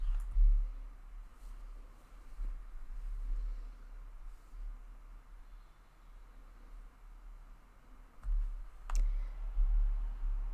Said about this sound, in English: we are going to click on Edit Text